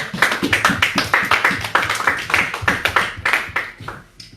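A church congregation claps in a brisk, steady rhythm to acclaim the Lord, many hands striking together in loud repeated bursts that continue for several seconds before tapering off.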